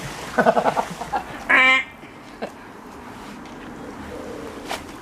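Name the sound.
goose calling near water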